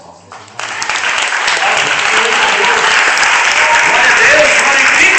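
A church congregation clapping together during worship, loud sustained applause building from a few hands into a full room, with a voice calling out over it.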